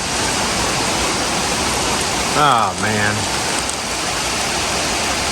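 Steady, loud rain falls from a small cloud over an outdoor yard with plants, a dense even hiss that fills the whole clip, with a brief exclamation from a man partway through.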